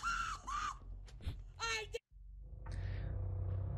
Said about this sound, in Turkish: Çocuk çığlık atıyor abi.